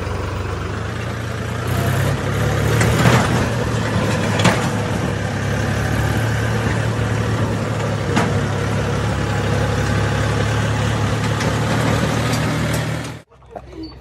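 A tractor engine idles on a farm where homemade manure is being loaded, giving a steady, close, low rumble that holds for about thirteen seconds before cutting off abruptly.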